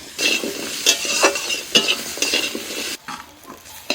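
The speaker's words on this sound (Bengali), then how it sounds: "ওই কড়ার মধ্যে অল্প একটু তেল আছে তাতে যে পটলের যে মুখগুলো আমি কেটে রেখে দিয়েছিলাম সেগুলোকে একটু হালকা করে ভেজে নিচ্ছি" Cut pointed gourd tops frying lightly in a little oil in a wok, loud close crackling and sizzling with brisk stirring scrapes, dropping to a quieter hiss near the end.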